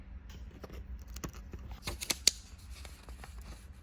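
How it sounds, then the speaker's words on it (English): A craft knife picks and peels excess vinyl from a cut car decal, a series of soft close ticks, scrapes and small crackles with a few sharper snaps, quiet and without talk. "I'll just dip that knife in there and peel out the excess."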